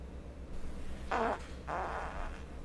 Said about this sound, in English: Farts.